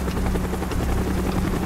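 A helicopter in Call of Duty Black Ops thunders steadily with dense rotor chop and engine roar, loud and close, filling the whole moment without any voices.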